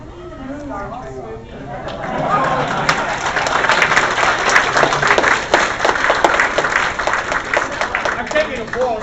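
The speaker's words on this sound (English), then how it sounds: "I'm taking applause like I did." Convention audience at DragonCon 2012 bursting into applause, building from a quieter start into a dense, sustained wash of clapping with crowd murmur through the hall.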